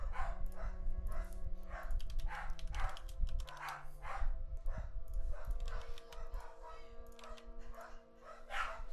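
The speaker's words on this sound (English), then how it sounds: "Basically, the mailman just came, so they're gonna just be barking." Several dogs barking and yipping repeatedly at the arrival of the mail carrier, loud and continuous with a steady low hum beneath, mixed with occasional whimpers.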